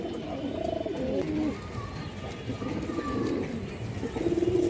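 Several pigeons coo steadily in a loft housing a red Muslodom male pigeon, the throaty coos overlapping in a continuous murmur at moderate volume with no talking.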